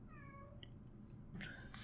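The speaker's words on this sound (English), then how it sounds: "My cat is so annoying." A pet cat meows indoors, a couple of drawn-out, wavering calls early on, then a brighter, louder yowl near the end, close to the microphone with a steady low room hum underneath and no one talking.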